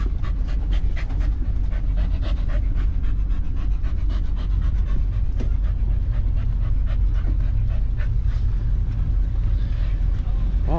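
Dogs pant steadily and close by in rapid, even breaths, with a low outdoor rumble underneath and faint voices mixed in.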